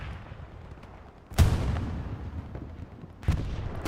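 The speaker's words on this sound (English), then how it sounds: "Check out the fight by artillery battery." An artillery battery fires in a World War II shooter, giving two sharp, heavy booms about two seconds apart, each with a rumbling tail, over a low background rumble.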